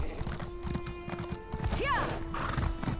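A horse in the video game The Elder Scrolls Online: Morrowind, with quick hoof clip-clops and a short neigh close by, set against game background sound.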